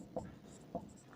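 Faint hand writing during a math lesson on a rectangle's length, two short scratchy strokes a little apart, close by and otherwise quiet, with no voice.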